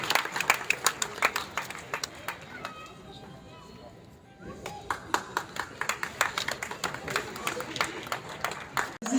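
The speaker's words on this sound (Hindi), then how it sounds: "जोरदार तालियां हो जाए प्लीज दोस्तों, जोरदार ताली बजाने से।" Crowd at a Sai Baba devotional gathering clapping loudly in sharp, rapid bursts, with a brief lull midway before the applause surges again; voices are mixed in.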